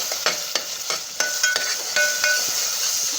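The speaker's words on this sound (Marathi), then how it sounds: "हे वाटलेलं वाटण जे टाकलं ना चांगलं तेल सुटेपर्यंत परतून घ्यायचं आहे" Ground masala paste for a mutton thali sautés in oil with a constant sizzle, broken by repeated sharp scrapes and taps of a spoon stirring against the pan.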